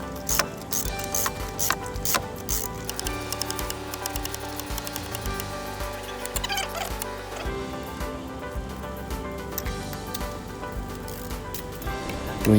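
A ratchet tightens a spark plug on a VW/Audi engine, giving a rapid run of close clicking strokes in a continuous rhythm with small pauses between them.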